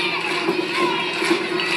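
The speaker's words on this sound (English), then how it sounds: "Crowd trying to get Eric back into this thing." A wrestling crowd at a Harm City Fight Club show cheers and shouts in a steady roar, with voices rising in bursts over the continuous crowd noise.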